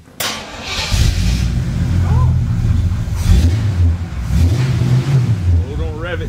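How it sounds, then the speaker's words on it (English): A 1955 Chevy truck engine cranks, catches and revs up loud and close, with people talking over the running motor. "don't rev it till it builds oil pressure"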